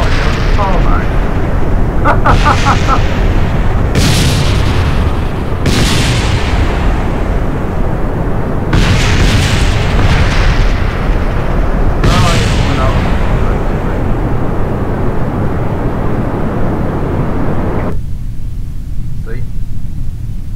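Repeated heavy explosions from bombs striking the runway in Kerbal Space Program, loud rumbling blasts arriving in bursts over a constant roar, with a voice talking over them throughout.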